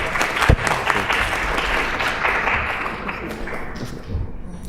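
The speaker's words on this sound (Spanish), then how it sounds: "la recibimos con un fuerte aplauso" An audience applauds to welcome a family-law specialist at a seminar on living free from family violence, dense clapping from a crowd filling the room steadily and easing slightly near the end, with some voices mixed in.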